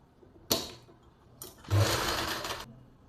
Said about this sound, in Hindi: पलटने के बाद इसके ऊपर से मोटे बक्के से सिलाई लगाएंगे